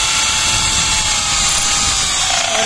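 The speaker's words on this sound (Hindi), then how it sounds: "और अब है हमारे पास ये एक ईट है जिसके अंदर हम छेद करने वाले हैं।" A power drill whines loudly and steadily at close range while its bit bores a hole into a brick, a continuous high buzzing with no voices.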